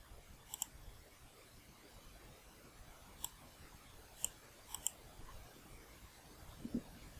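Sparse computer mouse clicks, a handful of faint, sharp ticks spaced unevenly over quiet room tone.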